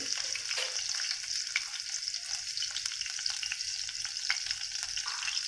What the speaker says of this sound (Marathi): हिरवी मिरची तेलात चांगली भाजून घ्यायची आहे